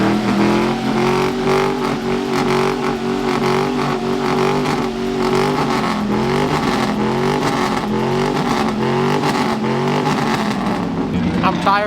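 A go-kart engine revs and holds a steady drone at a truck meet, loud and close, rising and falling in pitch for several seconds, with voices talking over it.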